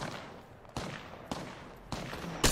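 Gunfire in the video game PUBG: a few separate sharp bursts of shots spaced roughly half a second apart, moderately quiet, with a louder final burst at the end.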